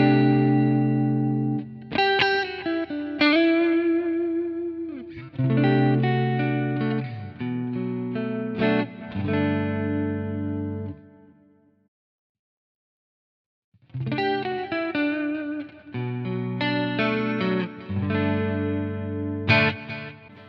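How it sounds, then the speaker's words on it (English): Electric guitar through a clean chorus tone on a Quad Cortex amp model, strummed chords and picked notes ringing out with a shimmering sustain, a few seconds of silence midway, then more chords, with no one speaking. "So let's go ahead and compare to the clean chorus here."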